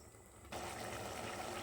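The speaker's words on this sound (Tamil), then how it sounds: "தண்ணி சேர்த்துக்கலாம்." Water pours steadily into a cooking pot of mushroom biryani, a broad rushing splash starting abruptly after a brief quiet moment and continuing at a close, even level.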